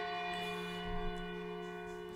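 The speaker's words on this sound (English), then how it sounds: "a bell sounds from the foot of the hill. Several long, slow rings." A church bell in the video game Lost Odyssey rings with a rich, sustained metallic tone, a slow long ring with layered overtones lingering steadily, heard alone.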